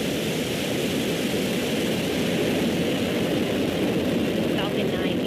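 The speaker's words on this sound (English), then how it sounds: "ignition, engines full power, and liftoff of Falcon 9" SpaceX Falcon 9 rocket lifting off carrying the Cygnus NG-21 cargo craft: a steady, loud, broadband roar that rumbles without a break from start to finish.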